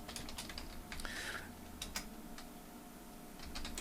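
Keys clatter on a computer keyboard as Visual Basic code is typed into Excel, irregular quick clicks in short bursts with brief pauses, fairly close and alone without talk.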